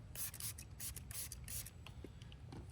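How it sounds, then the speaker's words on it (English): Short hissing bursts of ceramic waterless wash sprayed onto a white car during a quick detailing job, several pulses in a row, close and fairly faint, with light rubbing noises between them. "And we're gonna spray"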